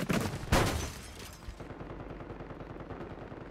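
Call of Duty gunfire: a couple of sharp, loud shots at the start give way to a steady quieter rattle of distant automatic fire, with no voices present.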